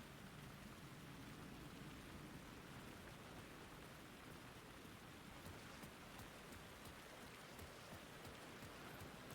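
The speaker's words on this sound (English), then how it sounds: "I love the sound of that rain." Steady rain pours in the video game Alan Wake II, a dense, even hiss of drops on hard surfaces that carries on unbroken and fairly quiet the whole time, with no voices over it.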